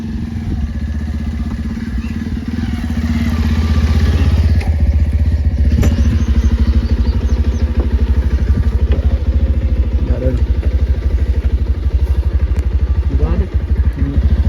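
A motorcycle engine runs nearby with a steady low rumbling putter that rises after a few seconds and stays loud and even, while people talk over it.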